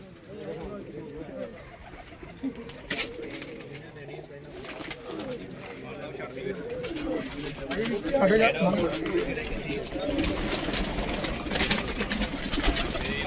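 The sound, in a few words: pigeons cooing on a newly built pigeon roof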